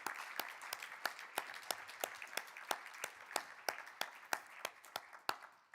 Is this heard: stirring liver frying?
no